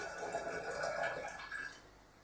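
Liquid swirling and splashing inside a fermenting container being rinsed out, a faint close watery rush that fades to quiet toward the end.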